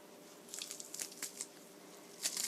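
Garlic squeezed through a garlic press makes a few faint, close crunching squishes in short bursts.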